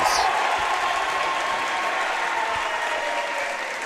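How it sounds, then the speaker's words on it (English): A basketball crowd at a Southeastern vs West Hancock boys varsity tournament game cheers loudly after a made layup, a dense, steady roar that fades only slightly. "the crowd erupts with excitement here"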